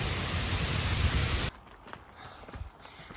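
Heavy rain pours in a steady loud hiss during a storm on a hiking trail, then cuts abruptly to a much quieter outdoor scene with faint scattered sounds.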